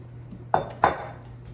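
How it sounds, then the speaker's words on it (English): Yellow summer squash pieces tipped into an air fryer basket, two quick clattering knocks against the metal basket, close and fairly loud against a faint hum. "So take out the air fryer basket, add the yellow squash,"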